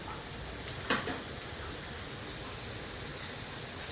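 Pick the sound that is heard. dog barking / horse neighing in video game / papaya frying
papaya frying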